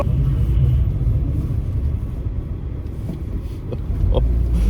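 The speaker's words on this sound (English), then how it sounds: "My buddy Ryan warming up his tires and almost curving it." A car warming up its tires at an autocross event, heard as a steady, fairly loud engine and road rumble that dips slightly midway and swells again at the end, with no talking.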